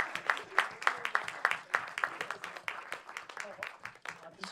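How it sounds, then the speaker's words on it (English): Audience applause at a community Q&A screening at The Ritzy cinema in London, a smallish crowd clapping in uneven, distinct bursts, fairly close and moderately quiet, with a voice speaking partly over it. "Can we have another round of applause"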